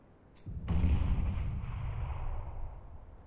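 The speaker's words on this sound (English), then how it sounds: "flashbang. Throwing a grenade." A grenade blast in Counter-Strike: a short preceding click, then a sharp, heavy boom followed by a long, rumbling decay that fades over a couple of seconds.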